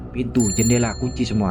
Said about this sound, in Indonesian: Sementara suara lonceng masih terdengar jelas di luar sana.